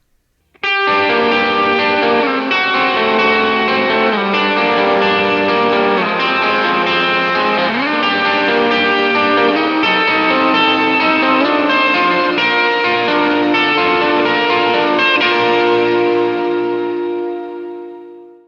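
A sustained, heavily distorted electric guitar plays triad chords and melodic lines through an EarthQuaker Devices Astral Destiny reverb pedal, washed in lush reverb and echo, then fades out smoothly at the end.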